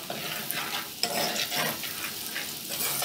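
Two crushed garlic cloves browning in coconut fat in a pan for arroz carreteiro, giving a steady close sizzle and frying crackle with soft stirring scrapes throughout, with no talking.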